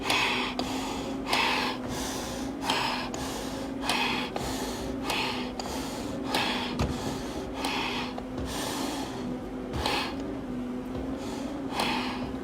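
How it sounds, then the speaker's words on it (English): A firefighter breathes hard and heavily while climbing stairs between the 101st and 110th floors in a memorial climb for an FDNY Squad 41 member. Rhythmic, close-up gasping breaths repeat steadily, each a loud rush of air with no talking. "Calm my breathing down a little bit before we hit this last vertical."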